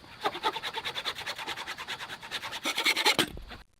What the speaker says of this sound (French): ils ont coupé les excédents